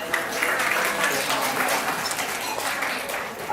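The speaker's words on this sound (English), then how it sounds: "Everyone give Ricardo a round of applause." A crowd applauds steadily at a wedding in Thailand, a dense wash of clapping that carries on for several seconds without pause.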